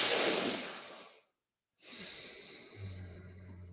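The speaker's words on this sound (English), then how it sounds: "Breathe in." A breathing exercise at the release of a breath hold: a long exhale fades into a short silence, then a steady inhale through the nose follows, close and soft, with a low tone entering near the end.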